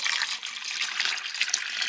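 Water runs steadily from a tap into reptile water tubs, a bright continuous splashing rush close by with small bubbling variations and no talking.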